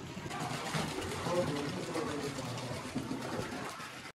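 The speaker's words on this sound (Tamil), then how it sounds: "இதில் ஒரு க்ரீன் கலர் பைப் தெரியுதுல்ல, அந்த பைப் வழியாக தான் தண்ணி இங்கே வந்து விழுது" Hot spring water pouring from a green pipe into a steaming pool at Vashist near Manali, a steady broadband splash running throughout with talk over it.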